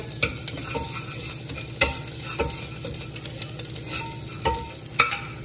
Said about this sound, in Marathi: हे आलं जे किसून घेतलेलं आहे ते घालूया आपण, थोडंसं परतून घेऊया